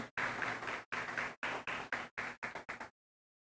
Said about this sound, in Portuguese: vamos aplaudir a Jesus bem forte nesta manhã